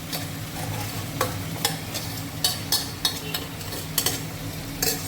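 A spoon scrapes and clinks as a spice mixture with eggs is stirred in a frying pan, with irregular sharp knocks over a continuous soft sizzle.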